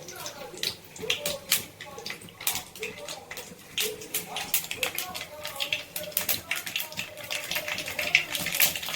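Mustard seeds and urad dal crackle in hot sesame oil, giving dense, rapid popping and spitting that runs steadily throughout.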